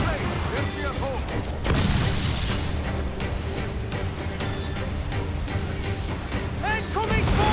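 Naval cannon fire booms repeatedly during a sea battle in Assassin's Creed 4: Black Flag, heavy low blasts layered over constant ship and battle noise at steady loudness, with speech-like voices mixed in.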